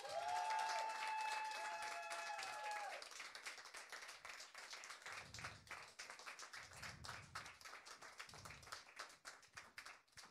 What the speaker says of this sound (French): Un tonnerre d'applaudissements pour Lord Betrave et Jérémy Croza.